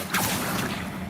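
The Accio summoning spell in Hogwarts Legacy opens with a sharp burst, then carries a sustained airy whoosh with a low rumble beneath it for about a second.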